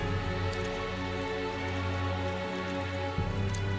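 Steady rain falls in the fantasy role-playing video game Tales of Zestiria, a soft, continuous patter over a low tonal game soundscape, moderately quiet with no talk.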